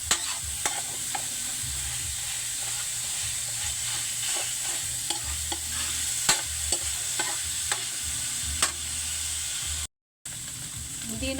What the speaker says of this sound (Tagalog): Higisin muna natin ang ating pansahog na karne